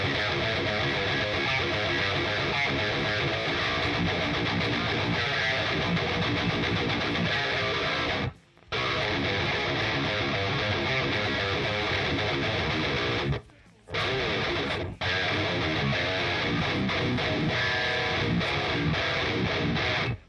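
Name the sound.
Schecter Avenger 7 Elite guitar through free VTAR amp sim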